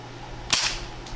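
A single sharp gunshot rings out close by while a red dot sight is tested, a loud crack with a brief tail. A second report follows about half a second later against a quiet, faint background hum.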